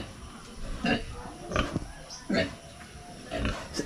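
A large pig grunting on a provincial farm before slaughter, with four separate rough grunts spaced roughly evenly apart, at moderate loudness over faint background noise.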